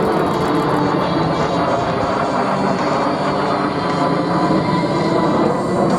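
A 1945 twin-boom airplane flies past low at a Marine Corps air station airshow, its steady, loud engine roar filling the whole stretch without letting up.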